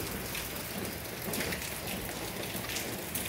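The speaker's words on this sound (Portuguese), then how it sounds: "Chovendo sem parar." Heavy rain pours steadily on a Brazilian New Year's Day, a dense, continuous hiss of drops hitting surfaces, loud and close with no pauses.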